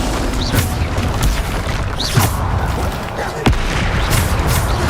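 A Bombarda blasting spell explodes in the video game Hogwarts Legacy, a loud booming blast amid dense, continuous combat noise with several sharp bursts across the few seconds.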